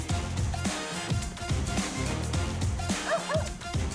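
Several dogs having harnesses fitted in a timed challenge give short excited yips and whimpers near the end, partly masked by loud steady music.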